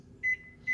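A microwave oven gives two short, high electronic beeps, close and clear, with a brief pause between them over a low background hum.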